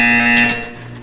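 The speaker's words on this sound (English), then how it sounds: "When you hear the buzzer, look up at the ceiling." A loud, harsh electronic buzzer from the video game Portal 2, one short sustained tone that cuts off and fades out within about a second.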